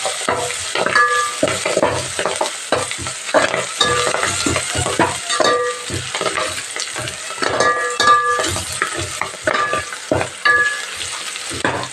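Fenugreek leaves sizzle in hot oil in a pan while being stirred, with a continuous close frying hiss broken by repeated scraping strokes and light clinks of the spoon against the pan.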